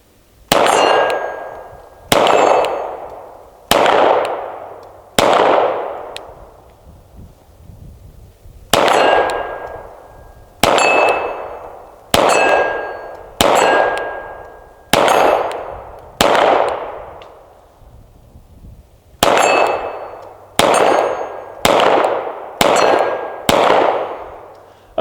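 A CZ P-07 pistol fires in single action, around seventeen loud, sharp reports in uneven groups of three to five, each ringing out briefly, with pauses between strings.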